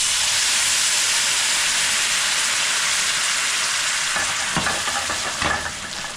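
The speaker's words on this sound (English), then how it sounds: "now what we're going to do is add white wine" White wine poured into a hot pan of pork belly erupts into a loud, dense, steady hiss of sizzling and steam, easing slightly toward the end with a few stirring knocks.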